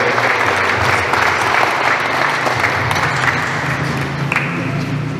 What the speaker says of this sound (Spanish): Lo recibimos con fuertes votos de aplauso